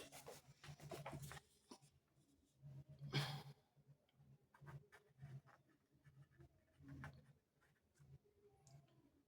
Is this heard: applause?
no